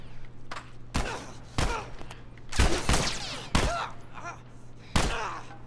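Gunfire in The Last of Us, several sharp loud shots spaced irregularly, each followed by a short ringing tail, with a low steady hum underneath.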